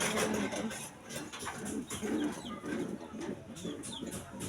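Pigeons coo softly in repeated low throaty calls, close by, with light rustling and background noise.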